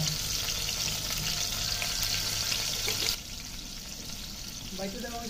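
A loud hiss of onion, garlic and ginger paste with ground spices frying in a wok on low heat, which cuts out abruptly partway through, leaving a quieter kitchen background with faint clinks.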